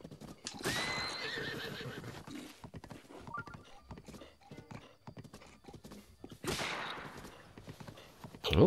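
In Zelda Breath of the Wild, a horse whinnies twice loudly between stretches of clip-clopping hooves at a brisk gallop, close and clear without talk.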